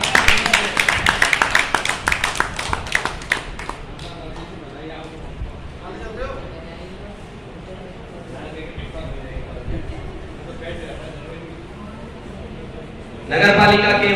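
Lively audience clapping for Rajesh at a Lions Club executive ceremony in Bandikui, dense and loud for the first few seconds, then thinning under murmuring voices before a fresh burst of applause at the end.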